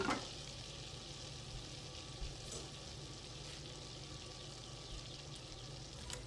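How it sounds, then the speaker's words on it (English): Sliced onions, red or white, sizzle steadily in melted fat in a pan over low to medium heat, a broad constant crackle with a faint clatter near the start and no voices. "I'm going to melt my fats and add my onions."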